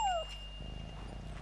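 A cat-like zarparena creature in the video game Yonder lets out a single short, high meow that slides downward, fairly close and clear over a soft steady game ambience.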